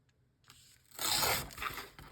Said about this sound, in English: cut one of these